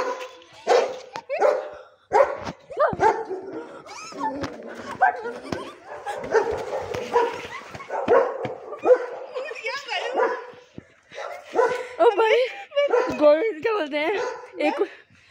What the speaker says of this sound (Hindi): ओ कुत्ता